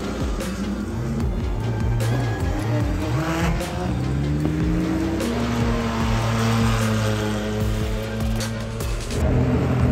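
GT race cars during WEC qualifying at Portimao, several engines roaring past with rising and falling pitch, overlapping loud passes and sustained high revving.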